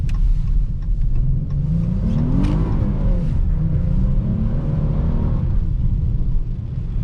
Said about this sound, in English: That was a smooth little drift.